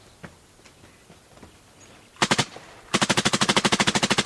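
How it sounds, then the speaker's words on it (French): After faint scattered pops, a short burst of rapid gunfire, then a longer sustained rattle of automatic weapon fire, loud and close. "je suis réveillé par le bruit de rafales d'armes automatiques"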